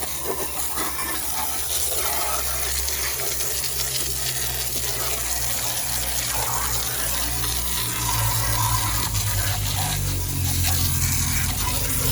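Water sprays steadily onto a John Deere mower deck during cleaning, a loud, continuous hiss and gush that holds without pause and with no talking.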